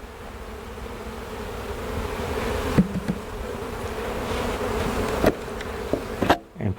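Honeybees swarm around an open hive during an inspection, a dense, steady drone of buzzing wings close by, punctuated by a few light knocks and clicks of equipment near the end.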